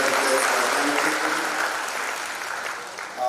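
Graduation ceremony audience for a 2021 class gives sustained applause, a dense, fairly loud wash of clapping that slowly tapers off toward the end.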